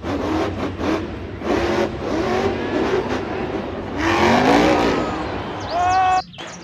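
Monster Jam monster truck engine at an arena event, roaring and revving loudly with rising and falling pitch through the crowd noise, cutting off abruptly near the end.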